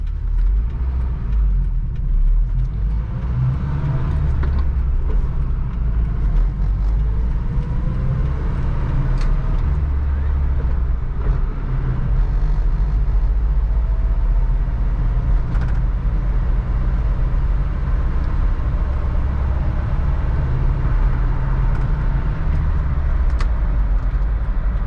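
Inside the cab of a 1985 Toyota pickup truck while it is driven, a loud, constant low road rumble and engine drone continue without a break, with occasional faint rattles and no talking.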